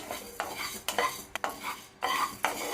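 Coriander seeds dry roasting in a pan over low heat for Telangana-style bagara rice masala, stirred with a utensil in repeated scraping strokes, a few short pauses between bursts, close and moderately loud with no talking.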